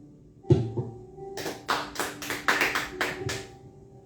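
A church congregation claps during a worship service. Scattered hand claps start with a sharp tap and then build into a burst of applause that rises and falls, with a faint sustained tone underneath.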